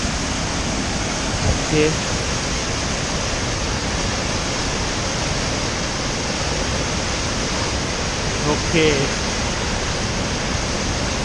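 Devil's Kettle waterfall in Minnesota pouring down into the river, a steady broadband roar filling the whole scene without pause, with a person speaking briefly over it twice.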